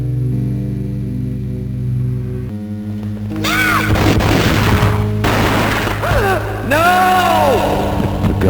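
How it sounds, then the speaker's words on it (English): A gunshot boom from the Game Boy Advance version of Max Payne lands as a sudden low thud over a droning game score, followed by a busier stretch of swooping tonal sounds. "The gunshot boomed and she fell down in slow motion."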